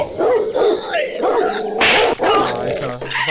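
A dog barks several times in the video game Whack the Neighbour, short sharp yelps and a whimper over about three seconds, mixed with game sounds and someone speaking German.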